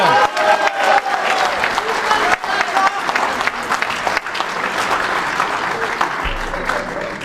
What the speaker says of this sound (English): Ladies and gentlemen, another round of applause for him.